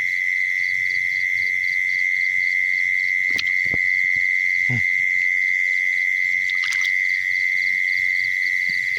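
A steady high-pitched trill of frogs calls on and on through the night in rice paddies, with a few sharp clicks and low rustles close by.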